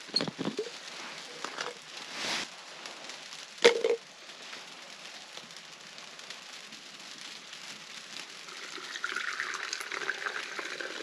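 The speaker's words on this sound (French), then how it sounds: "On va mettre de l'eau à chauffer direct là-dessus." Water poured into a pot for heating at a tent campsite, a faint patter and splash that builds into a steadier trickling stream near the end after a few soft knocks.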